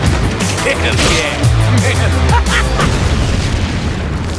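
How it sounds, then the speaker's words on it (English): Big explosion from the Deadpool movie trailer: a loud, deep booming blast that rumbles on for several seconds before slowly trailing off. "Explosion!"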